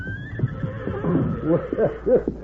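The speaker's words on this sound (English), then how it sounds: "Look at those horses." A horse neighs with a rising, wavering whinny that rings out loud and close, against the outdoor setting of an old radio Western drama; a faint high tone lingers at the start.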